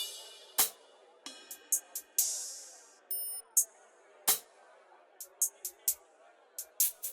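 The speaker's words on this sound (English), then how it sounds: "Then I've just added extra old school percussion to sound like this." Sparse old-school percussion in a neo soul beat: a few sharp clicks, bright metallic ticks and short noisy hits scattered irregularly, fairly quiet with gentle decays and no voices.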